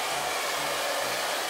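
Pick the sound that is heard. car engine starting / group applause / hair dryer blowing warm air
hair dryer blowing warm air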